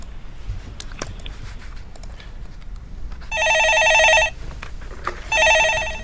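A telephone rings with an incoming call during a stock-market call-in broadcast: two loud electronic ring bursts, each about a second long and separated by a short pause, following quieter background noise.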